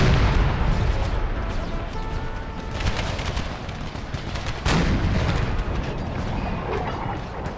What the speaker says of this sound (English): Howitzers refocus on their center lines right there.